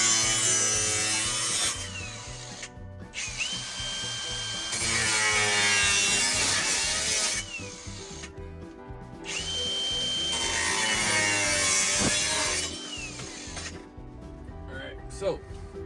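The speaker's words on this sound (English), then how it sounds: "I got my awesome Milwaukee with a fresh Benchmarks abrasive" A Milwaukee power tool fitted with a Benchmarks abrasive cuts a double-DIN radio bezel in several loud, grinding, whining bursts separated by short pauses, with speech heard between the cuts.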